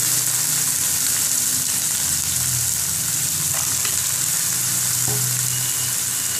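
Whole spices fry in hot oil with onion and tomato for a dhaba-style egg masala curry, a loud continuous sizzle with occasional faint stirring clicks and no talking.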